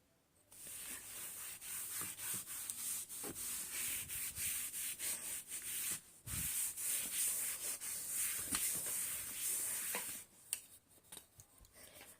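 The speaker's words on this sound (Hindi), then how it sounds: "तो मैं इसे रब कर रही हूँ ऊपर वाले को" Writing is rubbed off a classroom board with steady, brisk scrubbing strokes, a continuous dry rasping that runs for several seconds, briefly pauses, then resumes before tapering off, close and moderately loud with no talking.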